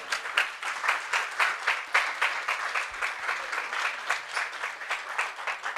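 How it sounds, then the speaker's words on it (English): Conference crowd applauds steadily throughout, a dense, even patter of many hands at moderate distance with no break and little talk. "please give them a round of applause as they're walking up"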